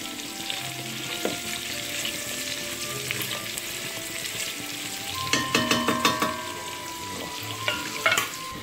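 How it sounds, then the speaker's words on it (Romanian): Vegetables sizzle in hot oil with a steady hiss close by, broken by a run of sharp spattering pops and a few clinks near the end. "le-am pus o țâră la prăjit în ulei"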